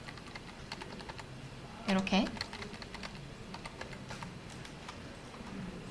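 Rapid typing on a computer keyboard for English typing practice, a steady patter of light clicks under a faint background hiss, with a brief spoken word in the middle.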